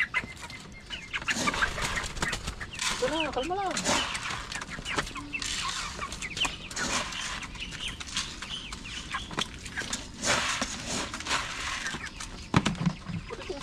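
A flock of backyard chickens clucks and squawks continuously nearby while being fed, with a brief spoken remark in Filipino mixed in among the birds.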